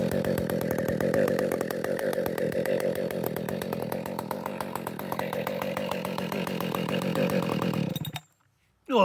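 A Husqvarna 572xp professional chainsaw with engine problems running loudly nearby beside a house wall, a rough buzzing drone with each piston stroke audible as a rapid pulse, then cutting off abruptly near the end.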